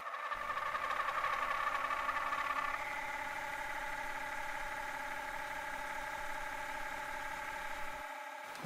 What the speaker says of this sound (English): we will cut the next part of the gear cutter